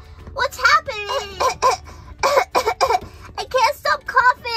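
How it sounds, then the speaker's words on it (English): A Baby Alive doll coughs, voiced by a person acting in a childlike voice. Several harsh coughs mix with whimpering, moaning vocal sounds throughout. "I can't stop coughing."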